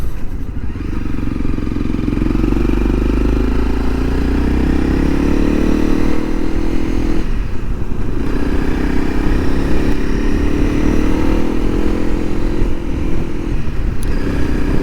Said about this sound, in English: the Arrow exhaust does feel smoother as I come up through the rev range